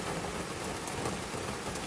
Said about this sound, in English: Listen to the rain on top of the Jeep for a while.